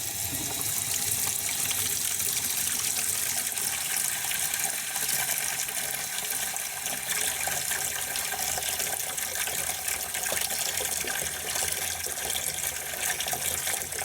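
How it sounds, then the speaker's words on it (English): Steady rushing water drains out of a waterlogged pressure tank, a constant hissing gush close by that stays even throughout without pauses. "just show you how much water comes out of the tank"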